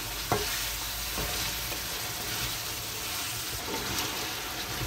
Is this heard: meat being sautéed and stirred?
yes